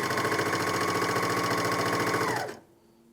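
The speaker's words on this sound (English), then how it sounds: "I'm sewing slower just to help it get over that initial hump" A Janome 9300DX overlocker stitching fabric at a slowed pace, a steady close whirring mechanical hum with a fast regular rattle that winds down and stops near the end, leaving quiet behind.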